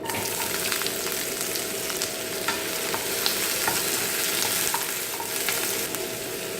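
Onions fry in sesame oil in a pan with a steady, dense sizzle and crackle, and faint stirring clicks sound throughout.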